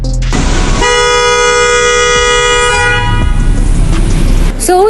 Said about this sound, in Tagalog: introducing you our Hella Twin Tone car horn